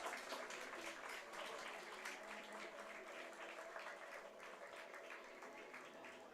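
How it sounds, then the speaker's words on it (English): Baseball crowd at a Bend Elks versus Walla Walla Sweets game applauds as an injured player gets to his feet, a steady, distant wash of clapping and crowd noise, faint and sustained throughout. "As a round of applause now ensues with Landon Young getting to his feet"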